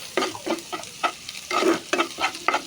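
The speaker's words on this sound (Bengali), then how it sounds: "আমি হালকা একটু মশলাও দিয়ে দিলাম, একটু নাড়াচাড়া করে নেব।" Fried eggs tossed with a little spice in a pan while fried rice is made, a close sizzle with repeated spatula scrapes in a loose, uneven rhythm, several strokes per second; no talk.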